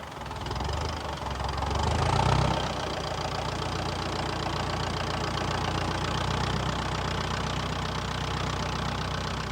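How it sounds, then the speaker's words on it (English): A Massey Ferguson TE20 tractor engine idles steadily, a continuous mid-low chugging drone with a slight rise in loudness early on, then holding even and close for the rest of the clip. "We still use the TE20 tractor because it does a lot of jobs that the heavy one wouldn't do so well."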